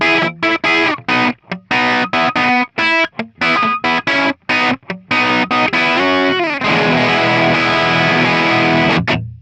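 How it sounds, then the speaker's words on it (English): Crunchy, distorted electric guitar through a Marshall JCM 800 amp model, played in choppy, rhythmic chugs with short gaps, then a long ringing chord that sustains and fades. "next up we've got a Marshall JCM 800 by Amalgam."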